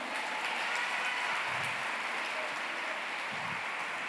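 A church congregation applauds the Lord together, a steady broadband wash of many hands clapping at once, sustained and fairly even throughout with no talking over it.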